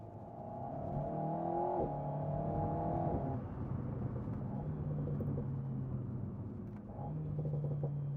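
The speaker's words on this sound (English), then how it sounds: "Pops and bangs again." An Alpine A110 S sports car engine in sport mode with manual shifting revs up and down in steady bursts, with sharp exhaust pops and crackles between the revs, loud and close.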